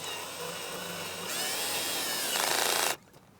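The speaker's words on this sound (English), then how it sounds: "you can then take your cordless drill" A cordless drill set to its lowest torque snugs a bolt into patio furniture during set assembly, whirring steadily up close and rising in pitch and loudness before cutting off sharply near the end.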